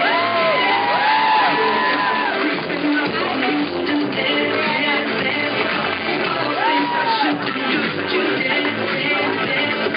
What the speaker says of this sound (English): a nice round of applause for your bride and your groom